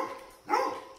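A dog barks indoors in a house, one short bark rising over a constant room hum with other dogs nearby.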